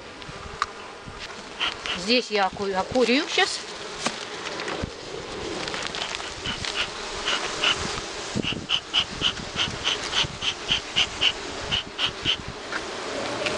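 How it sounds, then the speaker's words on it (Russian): Honey bees buzz loudly and continuously around an opened hive as they are moved into fresh hives, with dense droning close by. A person speaks briefly over the swarm. "Вот пчелки уже начали искать, метаться."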